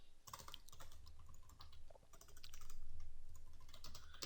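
Rapid keystrokes on a computer keyboard clatter in irregular bursts, close and fairly loud, with no talking.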